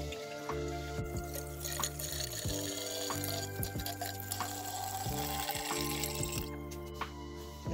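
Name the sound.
decanting excess water off precipitated silver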